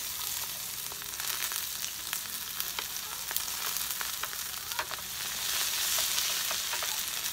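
Onion frying in a pan during backyard outdoor cooking gives an even, crackling sizzle with scattered pops and light stirring, steady throughout and swelling slightly near the end.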